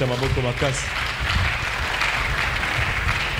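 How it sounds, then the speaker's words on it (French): A short stretch of speech gives way to steady applause from a crowd, a dense, even wash of clapping that carries on to the end. "Acclamons très fort pour lui."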